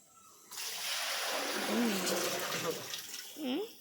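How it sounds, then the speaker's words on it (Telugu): Water pours and splashes across a dairy farm floor as it is washed down, a steady broad rush lasting nearly the whole stretch, with a voice briefly calling out over it. "మన ముందు జాగ్రత్తతో నీళ్ళు పోసేసారు ఫ్రెండ్స్"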